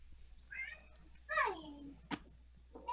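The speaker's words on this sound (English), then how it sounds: "I hear kitties." Kittens meow in a few distinct, rising-and-falling cries spaced across a quiet moment, with one sharp click between them; the calls sound fairly close and clear against low background hum.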